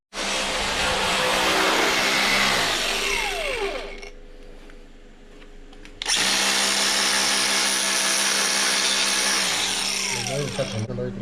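A power drill drives a self-tapping screw into the bodywork of an S14 drift car, loud whirring bursts with a brief drop in the middle before the motor winds up again, with talk around it.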